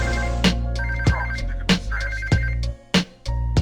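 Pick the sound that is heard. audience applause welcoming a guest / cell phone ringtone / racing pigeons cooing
cell phone ringtone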